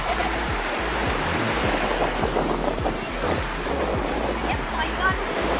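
Strong surf pounds Cha-am beach on the Gulf of Thailand, a continuous roaring wash of waves with low rumbling thumps from wind on the microphone.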